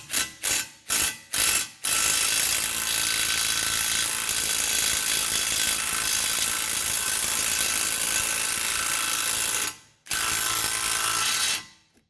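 A ratchet on an extension cranks a ball joint bolt on a 2014 Chevrolet Trax, a few short clicking bursts followed by a long continuous rapid ratcheting, a brief pause, then more ratcheting, close and loud with no talk.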